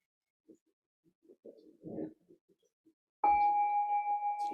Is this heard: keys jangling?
no